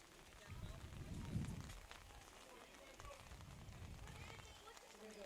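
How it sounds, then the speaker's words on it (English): Heavy rain falls at an outdoor softball game, a steady dense patter on surfaces throughout, with brief louder rumbles and a voice speaking faintly underneath. "the rain is coming down pretty hard"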